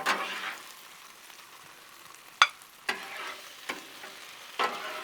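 Smoked sausage alfredo sizzles on a Blackstone griddle with a steady frying hiss, punctuated by a few sharp scrapes and taps of a spatula against the flat-top as the food is gathered up.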